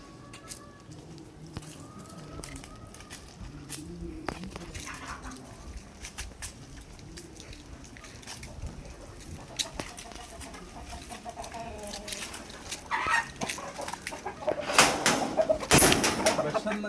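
Chickens being fed cluck and coo close by, growing louder and busier toward the end, with rustling movement around them.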